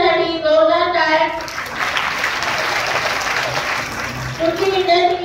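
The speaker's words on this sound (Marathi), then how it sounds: "तिच्यासाठी जोरदार टाळ्या" A school audience applauds a student singer at a song competition, a dense wash of clapping that swells for a few seconds between stretches of voices.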